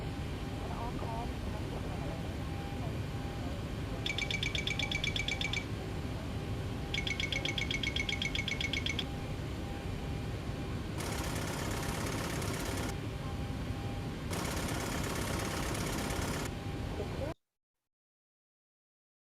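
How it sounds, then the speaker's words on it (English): In a Boeing 737 cockpit during a preliminary preflight check, the Mach airspeed warning clapper is tested. Four separate bursts of rapid mechanical clatter, each a couple of seconds long, sound over a constant background hum. "We did the Mach airspeed warning test, pushed one at a time, and we verified that the clapper sounded"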